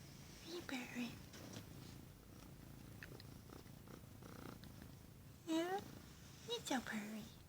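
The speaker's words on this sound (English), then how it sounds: "so purry" A cat purrs softly up close, a faint low rumble broken by whispered human talk and a couple of brief meow-like chirps.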